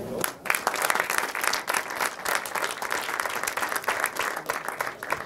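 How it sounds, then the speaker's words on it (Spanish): A conference audience at a football-industry roundtable breaks into sustained applause, a thick wash of many clapping hands that holds steady throughout. "con un fuerte aplauso para todos"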